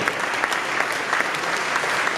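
An audience at a youth male summit in Houston claps in a steady, even round of applause, close and full, with no voices standing out.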